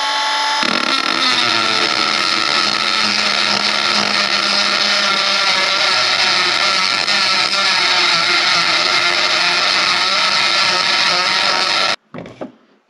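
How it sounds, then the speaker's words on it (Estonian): A wire brush grinds over sharp metal edges in a loud, continuous, harsh whir that holds steady for about twelve seconds before cutting off abruptly. "Tõmbasin algust traatharjaga üle, et tõmbad teravad asjad üle lihtsalt."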